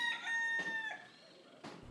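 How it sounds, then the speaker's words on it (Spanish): A rooster crows loudly nearby, a ragged call of two or three bursts that trails off, with a softer cluck-like note near the end and no voices. "alborotada por el canto del gallo."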